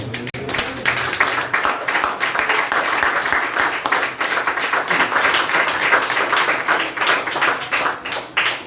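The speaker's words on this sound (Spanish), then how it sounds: "Denle aplausos al Señor" A church congregation at a sermon on the doctrine of Christ applauds for the Lord; dense, continuous clapping from many hands fills the room, steady and fairly loud from start to finish.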